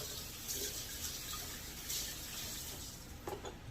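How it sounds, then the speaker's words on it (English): Tap water runs over a cutting board while it is rinsed at a kitchen sink. A steady faint hiss of flowing water with a few small splashes and clinks, and no talking. "just rinse the cutting board off"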